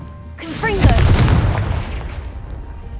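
A Confringo fire spell blasts in Hogwarts Legacy with a booming explosion. A sharp, bright whoosh rises into the blast, which rumbles and then slowly fades away.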